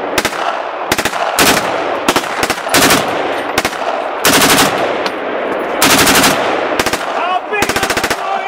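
Gunfire at a shooting range: rapid bursts and single shots crack out loudly in an irregular rhythm, some strings fast enough to sound automatic, with short gaps between volleys.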